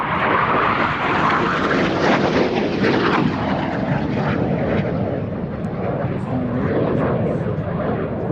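A jet aircraft with Rolls-Royce Avon engines roars past at an air festival, a loud, sustained, broadband engine rumble that holds steady, with faint voices underneath.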